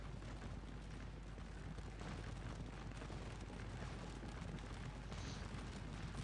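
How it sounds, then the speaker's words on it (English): Napoleonic artillery in the Scourge of War: Waterloo battle game rumbles as a dense, continuous barrage of distant booms, steady and loud with no pauses for six seconds. "I think your artillery's pounding at it as well."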